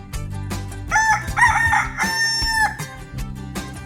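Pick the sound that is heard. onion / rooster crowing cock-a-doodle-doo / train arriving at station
rooster crowing cock-a-doodle-doo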